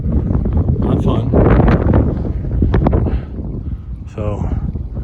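Strong wind at Saint Mary's Glacier roaring and gusting against the microphone, loud and close, with brief voice fragments underneath.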